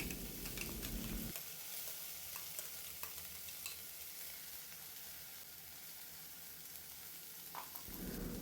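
Ridge gourd peel paste frying with spice paste in a pan, stirred continuously, giving a steady close sizzle with soft scraping, louder at the start and end.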